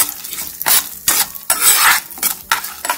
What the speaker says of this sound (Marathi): मेथी दाणा, उडदाची डाळ, हे व्यवस्थित लालसर पहिले परतून घ्यायचं